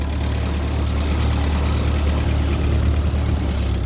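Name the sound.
1948 Ford 8N tractor engine idling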